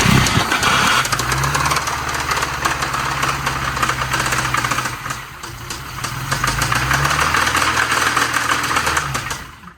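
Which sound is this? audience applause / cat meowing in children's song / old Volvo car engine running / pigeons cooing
old Volvo car engine running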